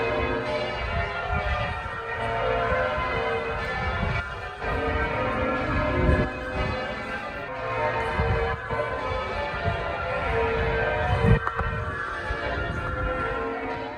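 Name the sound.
York Minster church bells ringing in full peal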